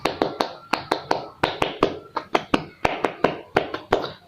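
Tepuk semangat, an Indonesian group spirit clap at a student orientation, with many hands striking together in a quick, repeated rhythmic pattern of crisp, close claps and brief gaps between phrases.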